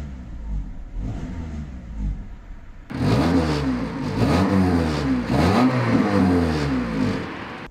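A fifth-generation Honda Accord engine, recently switched over to gas fuel, idles briefly and then is revved gently in a few rising and falling swells, close and loud.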